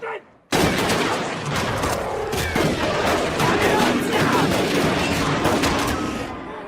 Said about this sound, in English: They pull him aside and open fire anyway.